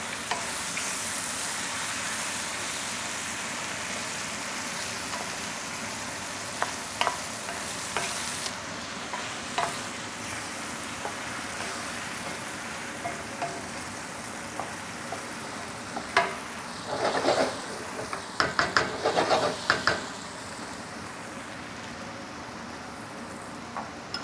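Red wine poured into a hot pan of ragu sizzles steadily, with brief bursts of crackling and stirring clatter toward the end; no one speaks.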